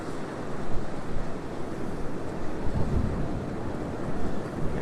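Strong gusts hit the microphone at Currumbin Beach while ocean surf rumbles steadily underneath, a continuous roar with no voices.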